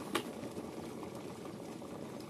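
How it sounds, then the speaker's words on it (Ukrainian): A Tesla KT500X electric kettle bringing water to the boil, a soft, steady bubbling hiss close by, fairly quiet and continuous with a brief click near the start. "ну от чайник закипає"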